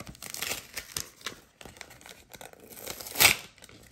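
Pokémon card packaging is crinkled and torn open by hand, with irregular close rustling and crackling plastic that builds to one sharp tearing rip near the end; no one speaks.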